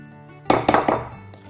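Two eggs are mixed into a thick batter in a Beaumark Hot Pot speed cooker, heard as a quick run of three or four close clinks and thunks of a utensil against the pot, then quiet.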